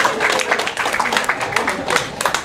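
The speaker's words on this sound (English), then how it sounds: "give yourself a round of applause." Audience applause during a lively heart-healthy nutrition talk, dense clapping from a crowd sustained throughout, close and steady with some voices mixed in.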